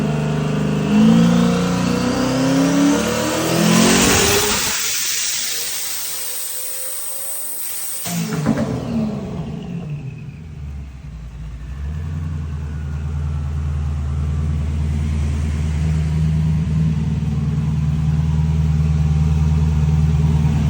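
A single turbo car with a TH400 transmission revs hard on a dyno at about 30 pounds of boost, a loud roaring pull that rises sharply, cuts off abruptly, then settles into a steady rumbling idle.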